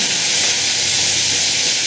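Hot oil sizzles steadily in a pan while onion and tomato are fried, a loud, even, close hiss with no pauses and no voices.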